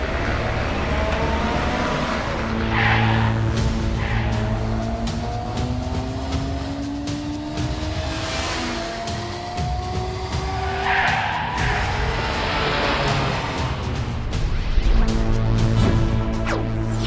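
Cartoon racing cars roar past with revving engines and long, rising tire squeals, skidding repeatedly in a loud, continuous stretch of speeding and sliding.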